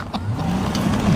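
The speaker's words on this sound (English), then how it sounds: "He pulls off in the Rolls Royce." A Rolls Royce car pulls off, its engine giving a low, steady rumble close by that rises slightly as it moves away, with no talk over it.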